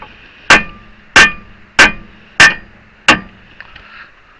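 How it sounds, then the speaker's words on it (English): A hammer strikes a Honda Fit CV axle five times in a steady rhythm, each blow a loud, sharp metallic bang close by. A fainter knock follows near the end. "Then in theory, you're supposed to be able to take a hammer"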